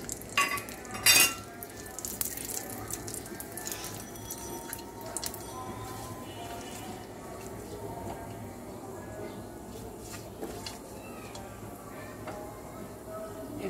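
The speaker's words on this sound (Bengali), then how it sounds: "দিয়ে দেব 2টা তেজপাতা, 2 টুকরা দারচিনি, 3টা এলাচ।" Bay leaves, cinnamon pieces and cardamom pods frying in hot oil in a pan, a steady soft sizzle with faint crackles and a few clinks, moderately quiet and close.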